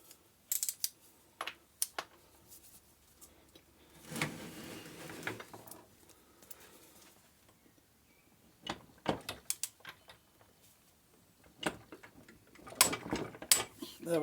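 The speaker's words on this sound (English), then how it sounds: "Pull nice and steady on the torque wrench. Don't try and jerk it." A torque wrench is turned on a primary drive bolt of a Parrish RD500 motorcycle, producing scattered clicks and ratchet rattles with a few brief bursts of metallic noise and quiet gaps between them.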